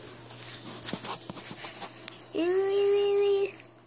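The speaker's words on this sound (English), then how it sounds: "dogs are out there playing." Jack Russell terriers, a brother and sister, play outdoors with scattered scuffles and yips, then one lets out a long, steady high whimper lasting about a second near the end.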